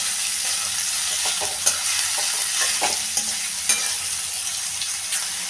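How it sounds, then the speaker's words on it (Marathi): Grated potato stir-fried in oil with green chillies for sabudana khichdi: a steady close sizzle broken by repeated scraping stirs of the spoon in the pan, with no talking. "त्यात टाकूया किसलेला बटाटा. बटाटा पण आता चांगला परतून घेऊया."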